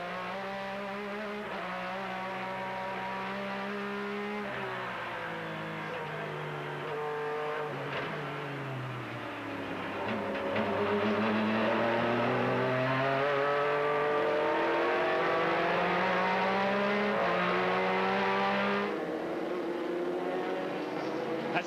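Onboard a race car in the Rolex Sports Car Series at Phoenix: a loud engine drones and climbs through gears, pitch rising and falling as it accelerates, downshifts and revs again, continuous and close throughout.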